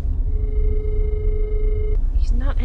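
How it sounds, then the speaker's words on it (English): Ringback tone on a phone call: one long, steady electronic tone that cuts off after about two seconds over a low rumbling background, followed by a brief voice. "It's ringing."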